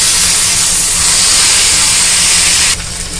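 Cauliflower filling for North Kolkata-style singara sizzles steadily in hot oil, a loud continuous broadband hiss that drops slightly near the end as the pan is stirred or moved.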